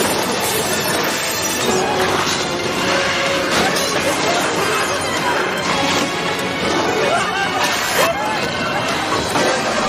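Mutated creatures smash through a vehicle's glass windows in a loud, dense, continuous crash of impacts and breaking sounds, layered with animal-like cries and background commotion, sustained throughout.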